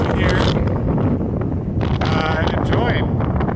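Strong wind off the Pacific Ocean at Monterey roars and buffets the microphone steadily throughout, a loud constant rush with ocean breeze noise and no clear talking.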